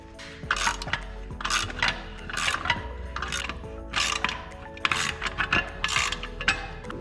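A wrench ratchets 13 mm bolts tight on a skid plate of a Yamaha TW200 motorcycle, with repeated bursts of clicking pawl strokes against a steady background hum, close and fairly loud.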